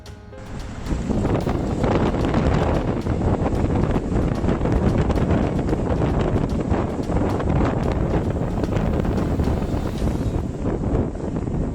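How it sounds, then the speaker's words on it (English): Storm wind roars continuously over crashing surf on the coast at Marina di Pisa, Italy, during a violent storm with gusts up to 220 km/h, loud and buffeting the microphone throughout with no speech. "The north and center of Italy was hit by a storm. Wind gusts reached 220 kilometers per hour."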